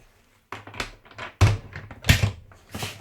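Double doors on the triple chiller of an ice cream van close with several solid, close-up thunks and clunks in quick succession.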